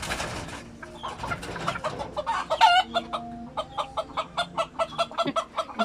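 A rooster and hens cluck in a steady, repeated rhythm of short calls, with a crow rising partway through, close and fairly loud over a faint background murmur.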